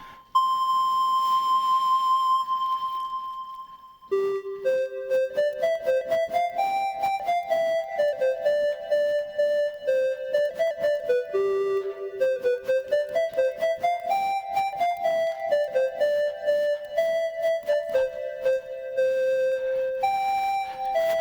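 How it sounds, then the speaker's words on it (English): A phone Ocarina app voiced by a small ChucK synthesis program, played by blowing into the microphone, with multi-touch setting pitch and phone tilt adding vibrato. A steady sustained tone gives way to a flowing melody of clear, whistle-like notes, with no talk. "There's a small Chuck program that's running that's generating the sound."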